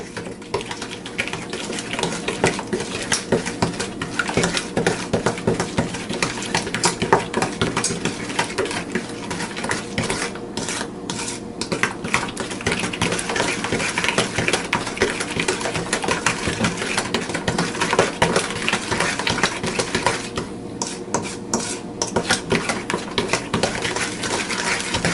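Moon beast pie filling mixed by hand in a bowl, a steady busy run of utensil scraping and clatter lasting throughout, close and fairly loud with no talk.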